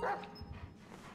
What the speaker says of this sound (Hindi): और ये है भाई इसका डॉग, फ्रैंकलिन का कुत्ता।